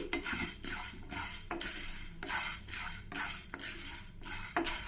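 Chana dal dry-roasts on medium flame while a spoon repeatedly scrapes and stirs the pan, rhythmic rasping sweeps roughly every half second, close and moderately quiet, with no talking.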